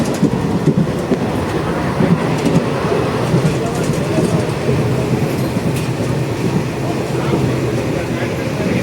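Steady rumble of a moving train, with continuous rolling and rattling noise from inside a carriage, loud and unbroken throughout.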